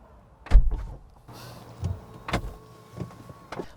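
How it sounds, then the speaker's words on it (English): A Zeekr 7X car door swings shut with a solid thud, followed by further muffled clunks and a faint electric hum, close and clear with no talking. "And this is what the door slam sounds like."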